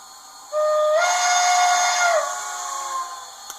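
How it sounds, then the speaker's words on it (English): A model locomotive's steam whistle sounds a stop signal through a TCS WOW sound decoder in a BLI I1sa, one loud sustained multi-tone blast lasting about two seconds over a faint steam hiss, with no talk. "the whistle signal for stop sounded at pretty much the same time"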